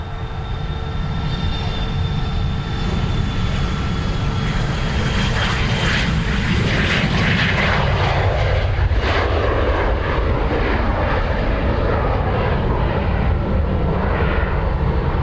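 Ryanair airliner taking off at Dublin Airport: a loud, sustained jet engine roar that builds and sweeps in pitch as the plane accelerates and climbs, heard alone from a nearby spotting position.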